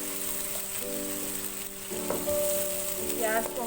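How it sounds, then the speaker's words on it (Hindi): Chopped onions frying in hot oil in a pan over a medium flame, a steady close sizzle with brief stirring clatters and a faint humming tone underneath. "गर्म हो जाएगा तो हम इसमें प्याज शामिल करेंगे।"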